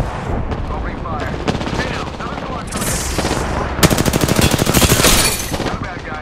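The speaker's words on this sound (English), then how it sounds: "Opening fire." Weapons fire in Apex Legends: rapid automatic bursts crackle close and loud, building into a dense, fast volley over a busy rumbling background.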